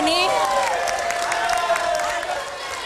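An audience at an Indonesian regional election debate for regent candidates claps and cheers, with steady applause filling the room while a host's amplified voice speaks over it.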